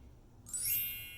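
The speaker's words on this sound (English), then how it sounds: "what does the sound of a bell make you think of?" A tingsha bell is struck once, its bright high shimmering ring blooming in after a quiet moment and sustaining as it slowly fades.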